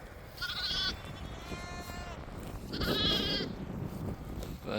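Dorper sheep on pasture bleat loudly several times in quick succession, nearby and clear over a soft outdoor background.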